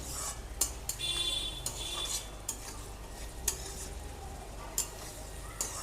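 Chole with chole masala being sautéed in a pan: a spoon scrapes and clinks against the metal in irregular clicks over a steady, close frying hiss, with no talking.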